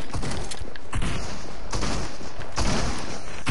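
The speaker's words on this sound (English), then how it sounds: "don't shoot your shotgun when they're that far away, mate" Rapid bursts of shotgun fire in a PS4 video game, several sharp blasts cracking out in quick succession over a busy game backdrop.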